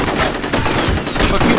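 Submachine gun fire in the shooter game F.E.A.R.: loud, dense, continuous rapid bursts filling the whole stretch, with no pauses.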